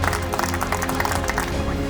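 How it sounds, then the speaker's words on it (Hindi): An audience at an agricultural crop show event claps for a guest speaker, a crowd's scattered rhythmic applause over a background hum, moderately loud and continuous. "एक बार जोरदार तालियां देवकरण मुचाला जी की"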